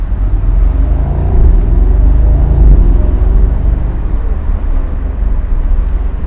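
A 2022 Mercedes SL 63 AMG downshifts, its engine note heard as a loud deep rumble with a brief rising and falling pitch sweep before settling into a steady drone, with no talking.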